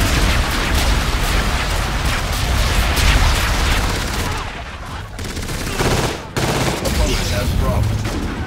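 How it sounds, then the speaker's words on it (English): Enemy bombardment in the shooter game Call of Duty: Infinite Warfare, a dense barrage of gunfire and explosions booming close and loud without pause, one heavy blast cutting through near the end. "Enemy bombardment incoming."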